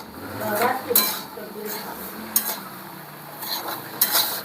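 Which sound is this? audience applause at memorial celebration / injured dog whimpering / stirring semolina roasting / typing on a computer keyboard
stirring semolina roasting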